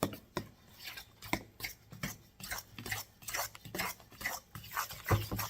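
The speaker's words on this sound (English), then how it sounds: "so we will just keep on stirring this a bit" Homemade playdough mixture stirred in a pot, a spoon scraping and knocking against the sides in quick, irregular strokes, close and clear with no talking.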